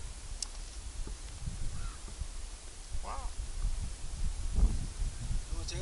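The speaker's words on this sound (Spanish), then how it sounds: "mira el cuervo" A crow caws a few times at a distance on a mountain outing, faint against wind and rustling, with brief talk nearby.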